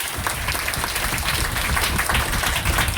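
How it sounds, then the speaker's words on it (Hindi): Loud, dense applause from an audience at a DXN marketing plan seminar in India, steady and sustained without pause, no talk over it. "आप सभी के लिए एक जोरदार ताली।"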